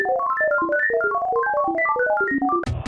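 The glitchy 'computación' sound from the Super Famista 2 video game on Super Nintendo plays as a rapid, erratic run of short beeping notes jumping up and down in pitch, then ends in a burst of noise.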